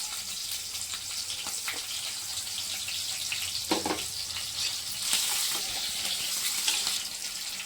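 Cumin and onion sizzling in hot oil for a bitter gourd curry, a constant crackling fry with a few scraping stirs, close and steady without talk.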